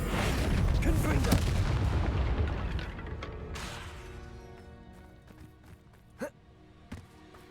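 A Confringo blasting spell goes off in Hogwarts Legacy, a loud booming explosion that rumbles and slowly decays over several seconds, followed by a couple of sharp smaller pops near the end.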